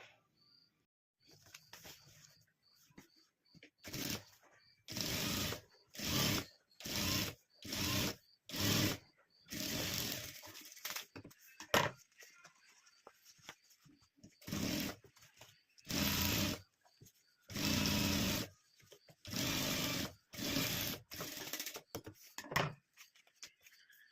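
A sewing machine stitches fabric cut from an old sari, running in a series of short, loud bursts of whirring separated by brief pauses, close up with no talk.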